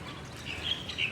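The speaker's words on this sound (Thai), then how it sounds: "ดูสิคะเสียงนกร้องเห็นไหม" Faint bird chirps in the distance, a few thin tweets over a soft outdoor background hiss.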